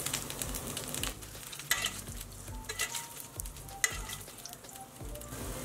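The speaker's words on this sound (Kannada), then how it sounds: "ತುಪ್ಪದಲ್ಲಿ ಇಡ್ಲಿ ಫ್ರೈ ಆದಂಗೆ ಆಗಿರುತ್ತಲ್ಲ" Idli frying in ghee sizzles steadily up close, with intermittent stirring scrapes and light clinks from the pan.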